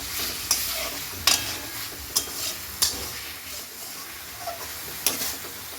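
Masala frying in a pan after water is added, a steady close sizzle broken by several sharp scrapes and taps of a spoon stirring against the pan, with no talking.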